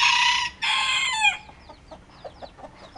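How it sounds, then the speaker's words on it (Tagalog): A rooster crows loudly and close in two long drawn-out calls, followed by a run of softer, short chicken clucks in uneven rhythm; no one talks. "Ito po sir, yung mga manok ngayon."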